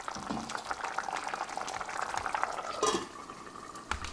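Tomato soup simmers in a covered pan after about twenty minutes of cooking, making a steady close bubbling with small clinks of pot and utensil throughout.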